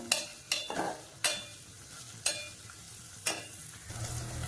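Sliced onions sautéing in a pan for jeera coconut rice, a soft steady sizzle broken by about six sharp scrapes of a spoon stirring, close and moderately quiet with no talking.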